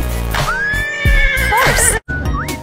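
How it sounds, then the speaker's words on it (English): A horse whinnies loudly and close in a shrill, wavering neigh that rises and shakes, with a short break before a final upturned squeal, as part of an animal-sounds lesson using plastic animal toys. "Horse."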